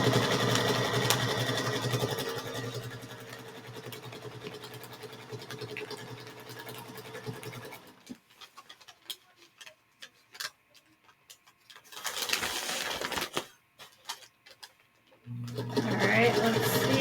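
A sewing machine stitches the last two quilt squares of a star block, running in long steady bursts with a pause and short stops in between, loud and close.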